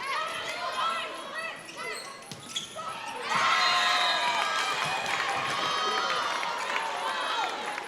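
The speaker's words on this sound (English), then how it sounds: "The crowd's into it now for the first time all night." A crowd cheers at a women's college volleyball match in a gym, with a roar of shouts and cheering swelling midway and holding loud, over squeaking shoes and court noise.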